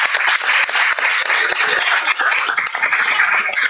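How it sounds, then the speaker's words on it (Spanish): Loud, sustained audience applause at a climate change science talk, welcoming speaker Leonardo Jaramillo; a thick wash of many clapping hands runs the whole time, with no one speaking. "Un aplauso por favor para Leonardo Jaramillo."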